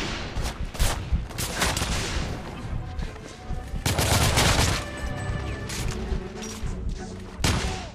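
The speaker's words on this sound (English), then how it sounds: "Oh, that was a shotgun to the face." Gunfight in the video game The Order: 1886 with several heavy shotgun-like blasts and shots, including strong bursts near one, four and seven and a half seconds, over continuous busy battle noise and debris.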